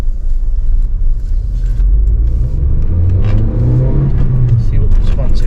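A Honda Civic MK8 with a 1.8L VTEC engine and a boost-increase screw pulls away from a standstill, its engine note rising steadily and loud in rumbling, revving tones across the whole clip, with a person talking over it.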